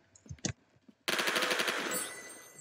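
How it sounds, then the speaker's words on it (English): A fully automatic gun in a video game fires a rapid, loud burst after a few scattered clicks and thumps, its shots rattling quickly before trailing into a ringing decay. "I got a new gun. I like these guns. Fully autos."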